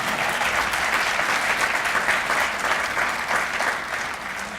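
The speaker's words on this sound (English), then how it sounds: "that's worth some applause" A large audience at the Richmond 2015 UCI World Cycling Championships course announcement claps in loud, sustained applause that fades slightly toward the end.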